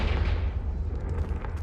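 A Confringo fire spell detonates in Hogwarts Legacy, a deep rumbling explosion with heavy low boom that rolls on and slowly fades, loud and close, with no talking over it.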